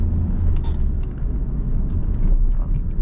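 A car pulling away and accelerating out of a roundabout during a driving lesson, a loud steady low engine rumble heard from inside the cabin.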